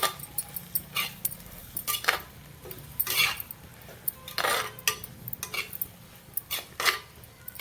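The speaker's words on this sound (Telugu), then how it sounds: "దీనిలో మనం కట్ చేసుకున్న ఆనియన్ ఇలా వేసుకోవాలి." Chopped onion drops into a pan for an egg onion fry, followed by repeated metallic clinks and scrapes of a spoon stirring against the pan, in a quick irregular rhythm close by.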